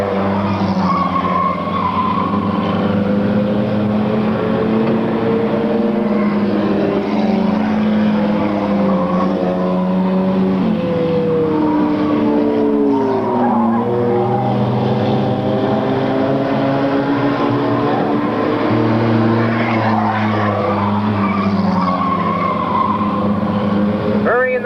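Race cars at a 1998 oval race roaring continuously, engines rising and falling as the leading cars battle, with tire squeal and a commentator talking over the constant loud drone.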